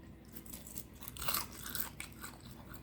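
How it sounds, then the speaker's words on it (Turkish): Someone chewing Bosnian manti, small spoon-sized dumplings, with soft crunchy bites and wet mouth sounds close up, a louder crunch midway and steady mastication throughout, with no talking. "Sizin için bir tane daha yiyorum."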